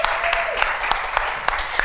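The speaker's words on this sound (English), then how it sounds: "Let's give him a round of applause" Audience applause at a spring opening ceremony, a broad wash of clapping with scattered sharper individual claps standing out, steady and fairly near, with a faint voice briefly audible underneath.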